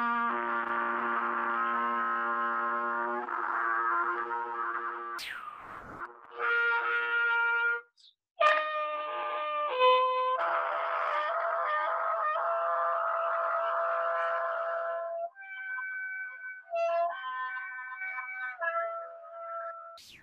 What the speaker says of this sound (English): And then when you do it through the trumpet, it sounds like this.